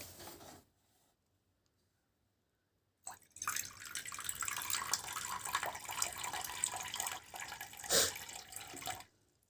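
Water pours into an egg incubator as a steady, close stream, like a tap filling a container, lasting several seconds after a quiet pause. There is a brief louder surge near the end before it stops.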